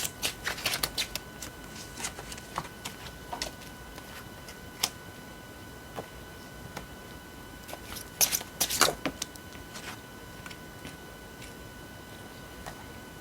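A tarot deck is shuffled nearby in quick, light bursts of snapping and flicking card clicks, with a denser riffle near the end, sitting over a steady faint background hiss and no talk.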